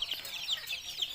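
Chickens clucking around their coop on a small farm, a low steady murmur of soft clucks with a few brief higher calls popping out, faint and somewhat distant, with no voices.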